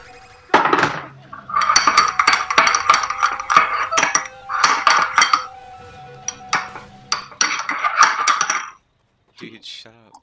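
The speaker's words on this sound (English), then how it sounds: "This is the sounds of making a coffee." Coffee is being made with cups and cutlery clinking: bursts of rattling ceramic and metal with bright chinks, close by, pausing briefly before a few final clatters.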